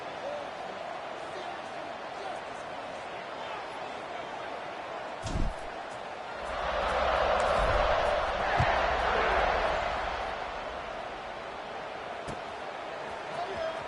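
Notre Dame football stadium crowd, a distant broad roar that swells for several seconds midway and then settles back into a steady background murmur.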